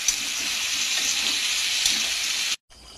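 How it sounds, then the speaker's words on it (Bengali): Spices and ginger sauté in a pan with added spice-rinse water, producing a continuous bubbling sizzle that stays close and even before cutting off abruptly near the end, with only quieter sizzling afterwards. "দিয়ে এবার ভালো করে কষিয়ে নেব।"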